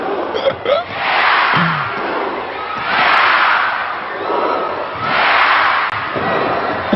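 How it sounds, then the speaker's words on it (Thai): A big indoor crowd of New Zealand supporters chants in swelling, repeated waves at a badminton match in the Indonesia Open, loud and continuous, with occasional thuds and a commentator's voice underneath. "กองเชียร์นิวซีแลนด์มีแต่เอียอูเอียอูตลอดครับ"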